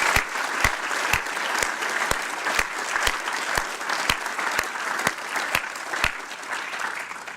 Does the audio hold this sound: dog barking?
no